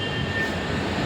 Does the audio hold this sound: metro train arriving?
yes